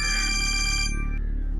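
A phone rings loudly with an electronic tone over a low background hum. The ringtone cuts off partway through and the hum continues alone.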